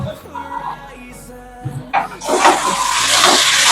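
Water goes into a pan with ginger paste for a Bengali bhetki fish curry. Musical tones are heard first, then a loud rushing splash and bubbling hiss builds and holds to the end.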